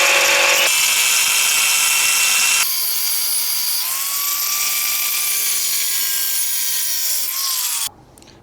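A power tool cutting a steel knife blade blank, a loud continuous whining grind at close range with shifting pitch that stops abruptly near the end.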